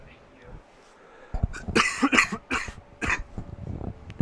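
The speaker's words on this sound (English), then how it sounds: "I do apologize if you hear coughing tonight." A person with a cold coughs several times in a rough cluster, close to the microphone, after a quiet moment, during a high school football broadcast.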